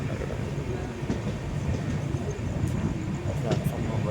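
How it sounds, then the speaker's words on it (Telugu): A passenger train pulls out of platform 1 at a station on a Nalgonda to Tirupati route, giving a steady, dense low rumble with faint voices in the background throughout. "గూడూరు అని ప్లాట్ఫామ్ నెంబర్ 1 నుంచి అయితే మన ట్రైన్ అయితే స్టార్ట్ అవుతుంది"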